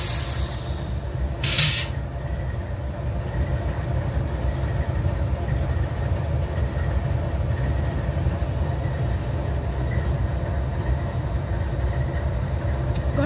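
Steady, loud low rumble of a CP grain freight train rolling past nearby, with continuous wheel and engine drone and a brief hiss near the start.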